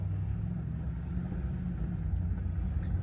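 A vehicle drives off-road, a steady low rumble of engine and tires holding at an even level throughout, close and continuous with no voices.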